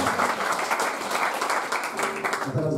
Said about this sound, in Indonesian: Yang percaya berikan tepuk tangan buat kita.